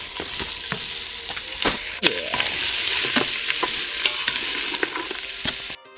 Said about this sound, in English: And then we're gonna saute for 2 minutes.